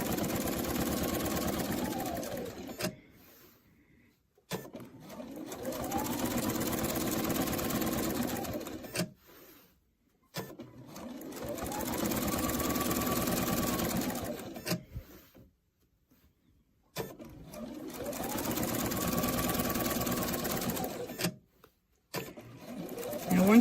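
Sewing machine stitching through a thick fabric binding, running in four separate bursts of several seconds each with quiet gaps between, its steady mechanical whirr rising and settling at the start and end of each run.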